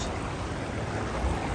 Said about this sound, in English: I have to jump this running water